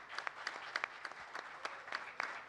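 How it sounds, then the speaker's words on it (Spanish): Scattered applause from an audience honoring agronomy students at an agrobiotechnology congress, a light patter of claps, faint and somewhat distant, brief and sparse. "Un aplauso para todos los jóvenes que están interesados en esto."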